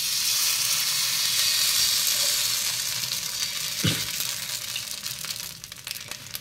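A sweet frying in a little ghee in a pan sputters with a steady close sizzle, with one soft knock midway as the frying fades slightly toward the end.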